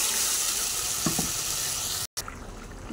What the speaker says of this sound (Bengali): আমি একটু মাপ মতন জল দিয়ে দিচ্ছি